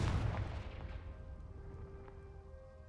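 Confringo explosive spell in Hogwarts Legacy, a deep booming blast decaying into a long low rumble with fading debris, loud at first then dying away, no talking.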